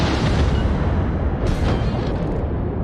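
British cruiser Black Swan's guns fire salvos in World of Warships, loud rumbling booms layered into a continuous roar with a sharper crack midway.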